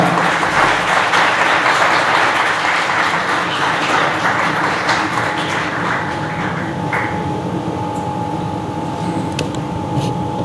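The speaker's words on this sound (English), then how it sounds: "Ladies and gentlemen, please welcome with a big round of applause." An audience claps at an academic AI summit to welcome a professor to the stage, a loud, sustained round of applause with a faint steady tone sitting under it toward the end.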